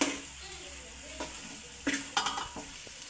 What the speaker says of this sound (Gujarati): બટાટા નાખી દેવાના છે